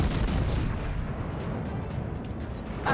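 Ship guns fire in World of Warships, a heavy, rumbling artillery boom that rolls on loud and close for several seconds before a fresh burst starts at the end.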